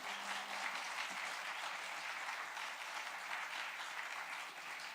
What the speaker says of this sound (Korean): 우리 목사님 나오실 때 큰 박수 함성으로 환영합니다.